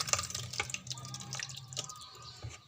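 Sago pearls washed in water: close splashing and dripping with sloshing handling noises, irregular and moderately loud, no talking.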